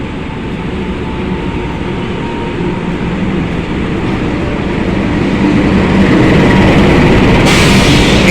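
The Gunung Jati 119 passenger train, which starts from Semarang, runs along the railway with a loud, steady, close rumble and rolling rail noise that keeps building over about eight seconds, with no voices.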